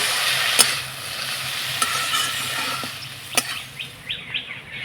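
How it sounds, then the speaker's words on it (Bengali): A spiced potato filling stirred and fried in a pan with red chilli powder and a splash of water, a soft steady sizzle with a few sharp clicks of the spatula against the pan, no voices. "এবার নাড়াচাড়া করে কষিয়ে নেব মশলার সঙ্গে"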